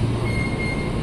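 Diesel service locomotive pulling away from track 1 at Jatinegara station, a steady low rumble with a faint high whine, heard close and continuous with no talk.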